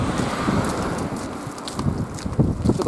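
Rain falls during a morning walk with a Dalmatian just after a typhoon has passed, a steady dense hiss mixed with wind buffeting the microphone and a few scattered louder patters near the end.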